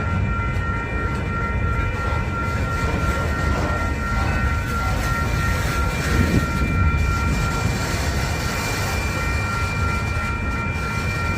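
A freight train loaded with lumber rolls steadily past in St. Paul, a loud continuous rumble and clatter of railcars with a high metallic ringing held throughout.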